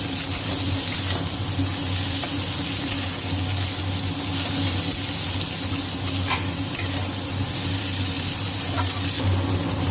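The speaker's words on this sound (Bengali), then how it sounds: "দিয়ে দিচ্ছি এর মধ্যে টমেটো কুচি এটাকে এবার একসাথে ভেজে নেব সবগুলোকে" Chopped tomato fries in a pan for homemade pasta, giving a steady, close, unbroken sizzle with faint watery crackle throughout.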